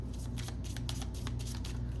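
Tarot cards being shuffled by hand, a steady run of soft papery riffles and flicks over about two seconds, close and moderately quiet, with no voice.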